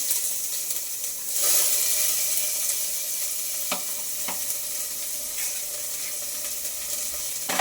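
Mustard seeds and small shallots frying in oil, a bright steady sizzle that swells after a second, with a couple of soft stirring knocks, no talk.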